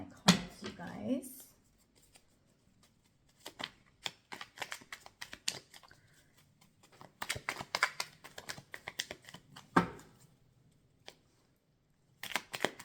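Tarot cards being shuffled in rapid papery bursts, loudest at the start and in clustered riffles midway and near the end, close and fairly quiet, with a voice talking at times in between.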